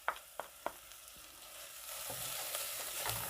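Ginger frying with onions and a little salt in a pot: a few sharp utensil clinks at the start, then a steady, moderately loud sizzle for the rest of the time, with no talking.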